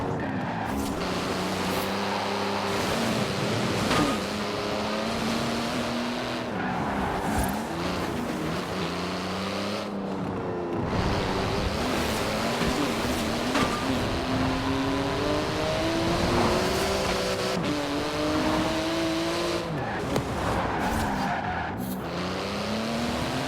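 A Porsche 911 GT2 RS engine in Forza Horizon 4 howls steadily through repeated upshifts and revving, joined at times by tire squeal, loud and sustained without talk.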